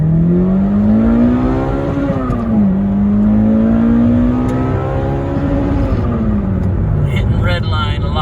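A reflashed 2005 Toyota Corolla XRS engine revs hard in first gear and steadily climbs in pitch, dips briefly at a shift, then continues loud and close.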